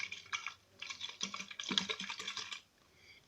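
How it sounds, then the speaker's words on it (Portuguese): A half-full, uncapped plastic water bottle is handled up close, giving soft crinkling, tapping clicks and faint liquid shifts in quiet, irregular bursts. "a gente vai pegar essa garrafa meia com água sem tampa"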